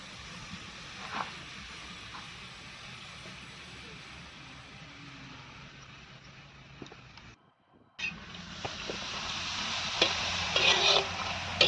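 Steady sizzling and crackling as dried Bombay duck fish roasts in a hot pan, continuing for several seconds with a short break, then resuming louder with light clinks.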